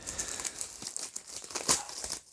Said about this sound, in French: il faudrait que je déballe, il faudrait que je coupe